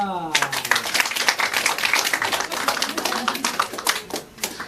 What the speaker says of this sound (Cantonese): 掌聲唔該。